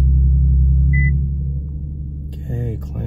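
An Infiniti or Nissan car runs with a loud low engine rumble that fades slightly, a short beep early on, and a voice talking near the end.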